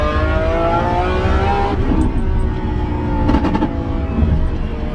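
A car travels through city traffic in Houston, its engine a steady drone with shifting revs and tyre roar, loud and close from inside, with a brief passing vehicle sound partway through.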